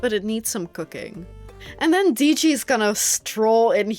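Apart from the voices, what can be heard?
No distinct noise like a dog, phone or traffic.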